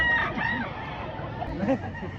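A seven-month-old gamecock rooster clucks near a cockfighting-bird seller in Lipa City, short soft calls scattered among a busy background of people talking and murmuring.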